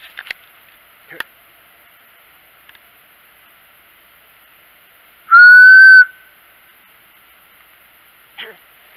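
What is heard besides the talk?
person whistling up the hill in the woods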